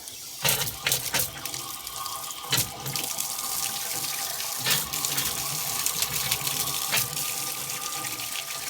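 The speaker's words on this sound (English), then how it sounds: "I just turned the water back on. There's probably some air in the line" Water gushes steadily from a utility sink faucet into the sink, broken by several sputtering bursts as air spits out of the line after the water is turned back on.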